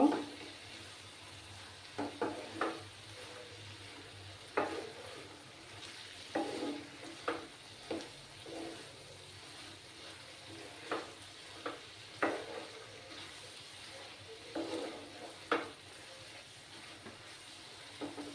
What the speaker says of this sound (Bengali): ধনেপাতাটা দিয়ে এবার একটু মিক্স করে নেব।